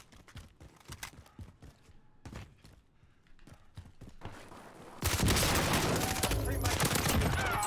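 Video game gunfire from a marksman rifle and other weapons, shown as scattered distant pops, then a loud, dense burst of fire toward the end, with players talking throughout.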